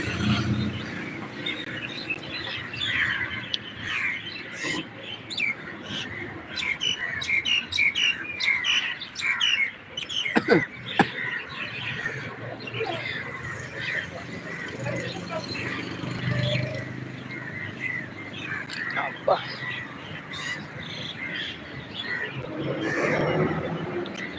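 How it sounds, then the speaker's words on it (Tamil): A flock of crows flying over a town, cawing and chirping steadily and fairly loudly throughout, with someone talking over the calls and a few sharp knocks partway through. "எவ்வளோ காக்கா பறக்குது எல்லாம் காக்கா அவ்வளோ காக்கா பறக்குது"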